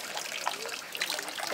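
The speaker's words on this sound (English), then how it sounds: "if you wash your hands and face with the beauty water from the spring on the grounds" Water from a shrine's beauty spring, used for washing hands and face, trickles and splashes softly in a brief, faint, continuous patter with no voices.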